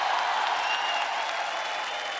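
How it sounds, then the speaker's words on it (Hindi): A studio audience at a Hindi comedy show claps in loud, dense, unbroken applause for the whole stretch, with no voices over it. "एक बार जोरदार तालियां क्योंकि भाई के लिए हो जाए।"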